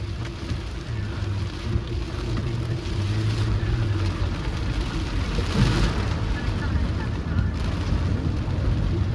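Steady rain patters on a car during a drive, a broad continuous wash over low road and engine rumble, constant and moderately loud throughout.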